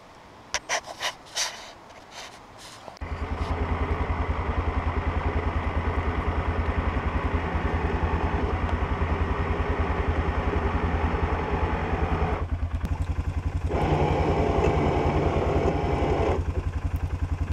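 A winch drags a log up a hill for a sawmill. After a few scattered knocks, its motor settles into a steady mechanical drone that dips briefly near the end.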